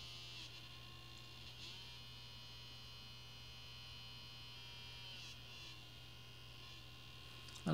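A 4-wire stepper motor driven by an L298N driver runs slowly, giving a faint steady electrical hum and whine held evenly throughout, close and alone.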